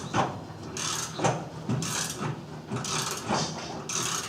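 Ratchet snugging down rusted M12 bed bolts on a Ford Ranger, repeated clicking ratchet strokes in a steady back-and-forth rhythm, close and alone.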